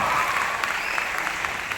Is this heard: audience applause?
yes